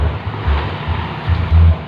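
A racing boat with a freshly repaired engine runs out on open water during a boat race test, heard as a loud rushing wash of wind and waves with low engine rumble surging in short bursts.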